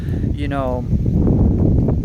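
Low rumbling wind buffeting the microphone, continuous and loud, with a short voice-like tone briefly heard over it.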